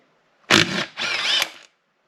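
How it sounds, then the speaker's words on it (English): An impact gun rattles off half-inch bolts on a Morris Mini 850 gearbox in two close, loud bursts of about a quarter and half a second, separated by a brief pause. "grab the gun again. We're just going to remove the 1/2-inch bolts."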